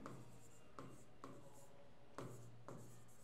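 Numbers being written on a board during a maths lesson, several short scratchy strokes spaced unevenly and heard fairly close over a faint room hum, no one speaking.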